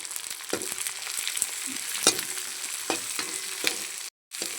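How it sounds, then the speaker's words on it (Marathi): Cucumber, added after carrot, sautéing in a pan for a colourful upma, with a continuous sizzle and scattered clinks and scrapes of stirring, close and fairly loud, with a brief dropout near the end. "आता आपण यात काकडी टाकू. त्याला परत परतून घेऊया."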